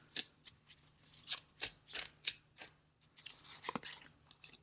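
Tarot cards being drawn from a deck and handled, a close series of soft papery swipes and slides at an uneven pace, with a light tap among them and no speech.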